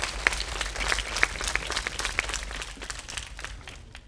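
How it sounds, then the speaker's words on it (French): An audience at a quiz show breaks into applause for a correct answer, with a few sharper individual claps standing out early before the clapping thins and fades. "Il faut applaudir."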